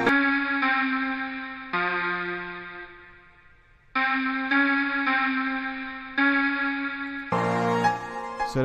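A bright, harmonic synth lead for a beat plays sustained notes in a slow melodic phrase, shaped with EQ that cuts the lows and washed in reverb so each note tails off into space, with no voice.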